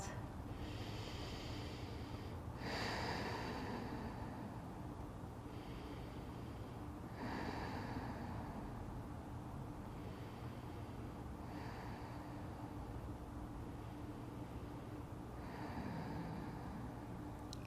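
Slow, deep breaths in a wide-legged yoga forward fold, a steady cycle of soft airy inhales and exhales every few seconds, faint and close against a constant hiss.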